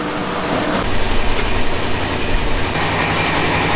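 Inside a second seating coach of the Ruposhi Bangla Express, the moving train gives a loud, constant rumble with rhythmic wheel clatter and no talking.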